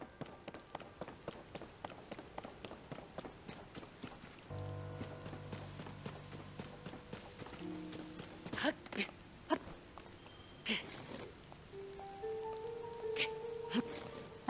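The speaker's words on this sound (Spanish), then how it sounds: "Ah, claro, que es porque está lloviendo." Steady rain falls in Zelda: Tears of the Kingdom as a faint patter under quick rhythmic taps, joined midway by sustained game music tones and occasional sharper chimes.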